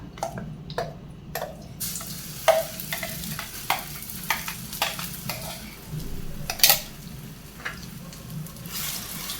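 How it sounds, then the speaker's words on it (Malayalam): Ground jackfruit is stirred into hot ghee in a pan for jackfruit payasam, with repeated scraping spoon strokes and clinks over a soft, steady sizzle, no talk. "നമുക്ക് ഈ ചക്ക ഇതിലേക്ക് ഇട്ട് കൊടുക്കാം."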